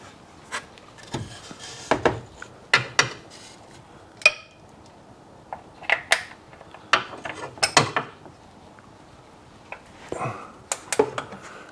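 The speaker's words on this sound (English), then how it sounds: "Can't get much of a swing with the ratchet either." Ratchet working on the oil filter of a 2007 Hyundai Amica 1.1 petrol car, giving short scattered bursts of clicking and metallic clatter with quiet gaps, close by.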